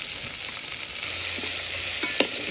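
Meatballs browning in a pressure cooker, with a continuous close sizzle and a few brief scrapes and clicks of a utensil, no voices.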